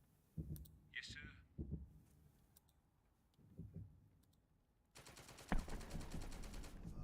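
Hull machine gun bursts from a Universal Carrier in the WW2 strategy game The Troop, a rapid rattling burst of fire starting midway and continuing loud to the end, after scattered clicks and earlier quieter shots.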